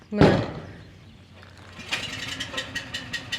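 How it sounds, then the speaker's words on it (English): A farm generator or power supply starts with a loud burst, then settles into a steady mechanical run with rhythmic clicking pulses, heard close by at a cattle-working setup for feeder steers. "There goes the generator or power supply."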